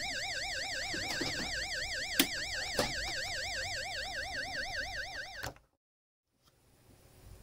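A loud electronic warbling siren from an LED warning lamp wails in a fast, rising-and-falling pattern, then cuts off abruptly, leaving near silence.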